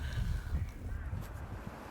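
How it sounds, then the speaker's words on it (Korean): Low, steady wind rumbling and buffeting around an empty, closed rural schoolyard in late autumn in Gimcheon, South Korea, with a faint rustle now and then and no voices. "바람 소리만 학교를 맴돌 뿐입니다"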